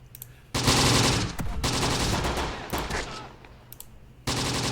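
M3 machine-gun fire in the WWII strategy game Close Combat: The Bloody First, four loud, sustained automatic bursts separated by short pauses, heard up close with no talking.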